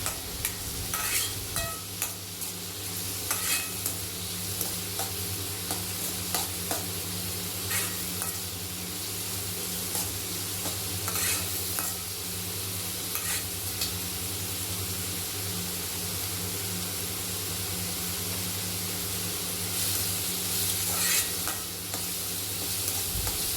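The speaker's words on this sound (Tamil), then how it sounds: "வெங்காயம் நல்லா வதங்கிடுச்சு. இப்போ பொடியை நறுக்குன ஒரு தக்காளியை இதில் சேர்த்துக்கலாம்." Chopped tomato and onion sizzle continuously in a hot pan, with a spoon scraping and stirring through them at intervals, loud and close, with no talking.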